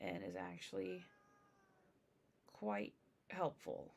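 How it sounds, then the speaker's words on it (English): A cat meows loudly twice in a quiet room, long wailing cries spaced a couple of seconds apart, with a person talking in between and over the end. "I apologize for the cat."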